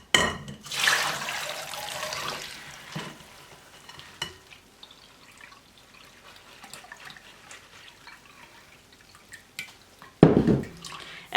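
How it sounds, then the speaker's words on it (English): Water from soaked wheat pours through a strainer into a bowl, a loud rushing splash near the start that fades into scattered drips and small clatters, then another brief splashing burst at the end. "So now we need to strain out this water"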